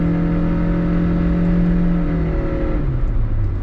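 Supercharged Subaru Pleo engine pulling hard under full throttle, a steady droning whine with strong harmonics rising then settling as the small car climbs uphill, heard close from inside the cabin with no talk.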